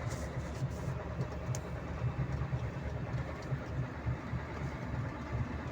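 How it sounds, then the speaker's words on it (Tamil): A road grader working to level soil for road building gives off a steady, heavy engine drone with a deep low rumble that holds continuously throughout, fairly close and without talk. "இந்த வண்டி என்ன பண்ணோன்னா ரோடு போடுற மண்ணு வந்து சரிப்படுத்துறதுக்கு ஒரு மிஷின் இது"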